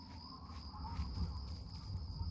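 A fly buzzes steadily in Fallout 3, a faint, continuous drone over a quiet ambient background, heard alone without speech.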